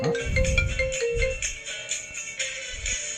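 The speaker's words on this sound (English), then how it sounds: "Was that your ringtone?" A phone ringtone plays loudly as a melodic electronic tune with repeating tonal notes and pulsing bass beats, heard alone without talk.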